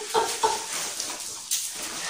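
A dog whimpers at a chateau, giving two short, high whines close together early on and then a fainter sound over steady background noise.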